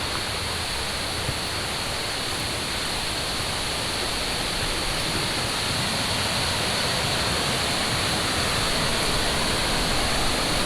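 Heavy waterfall runoff pours at a New Hampshire swimming hole, a loud, unbroken roar of rushing water close by with no voices over it.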